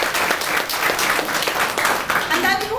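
Audience applause, a dense, steady burst of many hands clapping close by that carries through the whole short stretch, with a voice starting up near the end.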